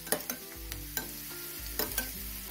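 A spoon stirs tomato sauce into cauliflower Manchurian in a pan, giving soft scraping strokes and a few sharp clinks over a quiet sizzle, close and fairly faint.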